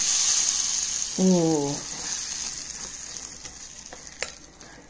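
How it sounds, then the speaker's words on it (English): A tadka of hot oil with turmeric sizzles loudly and steadily as it is poured into dal, a bright frying hiss that slowly fades, with a brief voice exclamation and a few small clinks. "And this tadka will go to our dal"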